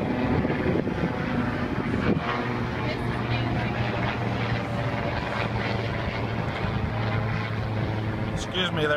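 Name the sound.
large aircraft flying overhead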